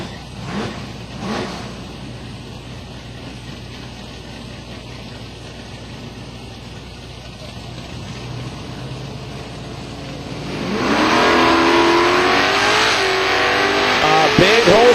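Drag cars launch side by side at Silver Dollar Raceway, among them an 88 Mustang, their engines bursting from a low idle into a loud, rising, wavering roar near the end, with an announcer talking over the idle.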